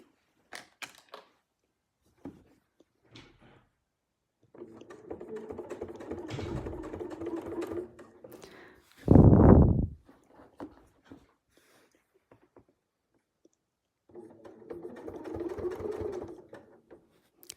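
A sewing machine stitching a quilt with a straight-edge guide, running in a few separate bursts of steady mechanical whirring, close and clear, with short pauses and a louder thump in between.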